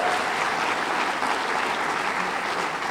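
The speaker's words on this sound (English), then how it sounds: "One more round of applause, please" Steady, loud applause from an audience at a Hometown Heroes press conference honoring award recipients, with dense clapping that holds evenly throughout and no voice above it.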